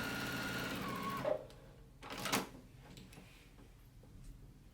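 A JUKI sewing machine stitching quilted fabric for a laptop bag runs in a short rapid burst, then stops, leaving a few faint clicks and quiet handling noises.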